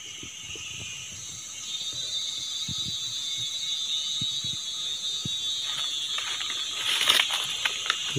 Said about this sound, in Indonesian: Kalian dengar sendiri teman-teman, suara